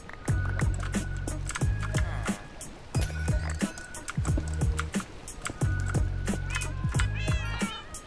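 A cat in a blocky lucky-block video game meows repeatedly in short, loud bursts against rhythmic game sound effects, with clipped repeating tones and intermittent clicks throughout.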